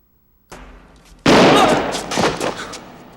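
Gunfire from a scene in the film GoldenEye: a loud, close burst of shots erupts after a brief rising noise, followed by several more sharp cracks in quick, irregular succession, with no talking.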